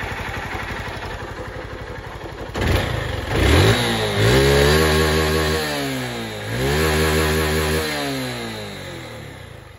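Static hum at first, then a 2011 Honda Titan 150 motorcycle engine kicks in close by and revs up and down twice in rising, falling surges before settling.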